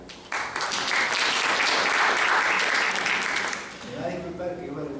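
Audience applause for a coordinator of Peru's national electoral office, at an electoral education event: a broad, steady wash of clapping from a crowd that fades out near the end as a voice begins talking.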